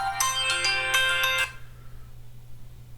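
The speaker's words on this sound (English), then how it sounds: "Hold on, I'm getting a call." A phone ringtone plays for an incoming call: a bright, loud melodic pattern of repeated tones lasting about a second and a half, then stopping, alone.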